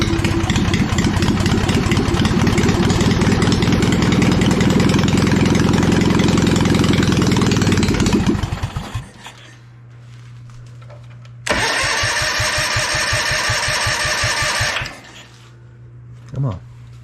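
A cold boat engine with a new carburettor cranks steadily for about eight seconds before going quiet, then catches again and runs loudly for a few seconds before cutting out, with a low hum in between.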